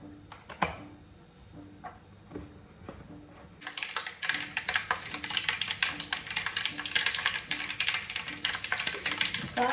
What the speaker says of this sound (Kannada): ಸಾಸಿವೆ ಹಾಕಿದೆ ವೀಕ್ಷಕರೇ ನೋಡಿ.